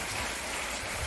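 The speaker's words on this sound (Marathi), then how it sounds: "चांगला पाऊस वाढलाय बरं का चांगला चालाय" A heavy downpour falls hard enough to flood a veranda, a loud, steady roar of rain with no gaps or other sounds.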